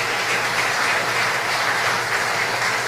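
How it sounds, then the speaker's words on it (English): Audience applause at a tribute ceremony honouring Belizean patriots, a dense, steady wash of clapping that fills the whole stretch without letting up, with no voices heard over it. "Another round of applause for Emmet Young."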